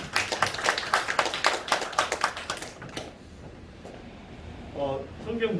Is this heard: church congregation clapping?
yes